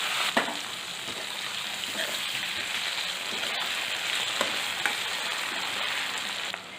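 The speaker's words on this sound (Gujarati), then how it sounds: "હવે આપણે તેને પ્લેટ હટાવીને હલાવી લઈશું" Onion and potato curry frying in a pan on slow-to-medium gas flame, stirred with a few soft scrapes over a steady, close sizzle.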